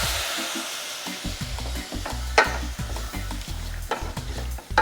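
A pan of sautéed shrimp with garlic is deglazed with aged rum, giving a loud close sizzle under rhythmic scraping strokes of a utensil stirring against the pan.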